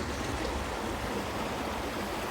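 A shallow stream flows over stones in a crawfish habitat, making a steady, continuous rush of water that stays even and fairly close throughout, with no voices.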